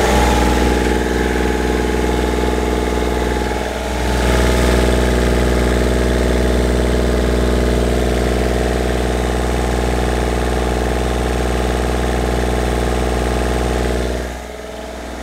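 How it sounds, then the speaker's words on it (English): A yacht's inboard engine runs steadily through a test spin in the bay, a loud, continuous low drone with a brief dip partway through and another near the end, no talking over it. "We're just taking her out for a bit of a spin in the bay just to make sure that the engine's not overheating."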